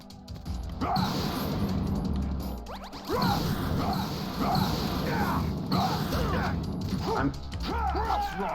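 Objects get smashed in the Metal Gear Solid 2 video game: repeated crashing, clattering impacts and mechanical rattles in bursts over several seconds, loud and close.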